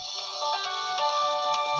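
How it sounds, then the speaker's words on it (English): A phone ringtone chimes during an online tabletop game session, a bright repeating electronic melody that plays steadily at moderate volume with no talking over it. "That's a phone call."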